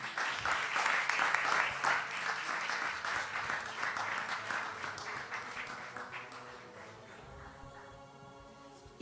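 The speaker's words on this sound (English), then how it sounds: "Let's give another round of applause for them." Steady audience applause after a children's performance at an Easwaramma Day celebration in a hall, many hands clapping densely at first, then gradually thinning and fading toward the end, with music tones emerging beneath.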